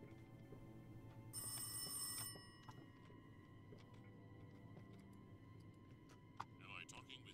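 An old-style telephone bell rings once, a bright burst of under a second inside the horror game Theodor: Rise of Insanity, over a quiet ticking ambience with sparse clicks afterward.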